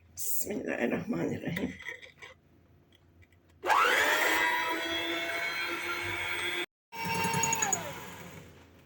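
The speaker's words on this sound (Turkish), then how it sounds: "Daha sonra mikserde iyice çırpacağım." An electric mixer whisking eggs and sugar whirs loudly at a steady high pitch for a few seconds, cuts out briefly, then starts again and winds down, after a quieter stretch of kitchen sounds.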